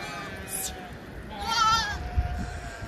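A goat in a shepherd's herd in the mountain village of Chitkul bleats twice nearby, a short call then a longer wavering one, with faint talk in the background.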